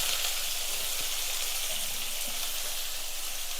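Chopped onions, four medium ones, sizzle steadily in hot oil in a pan for an egg gravy, a constant close hiss with a few small pops and no talking.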